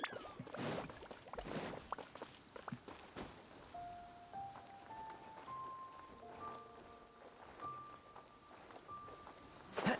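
Rain downpour in Genshin Impact, a faint patter of drops on surfaces with scattered louder splashes early on, joined later by soft sustained game tones.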